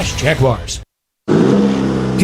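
Turbocharged 2.7-liter high-output engine of a 2023 Chevy Silverado pickup, first a brief burst under a voice, then after a short silence a loud, steady revving roar held close up.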